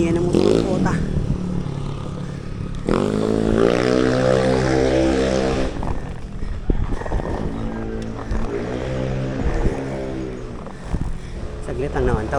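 A motorcycle labours up a climb with little power, its engine droning loudly and steadily throughout while a rider talks over it.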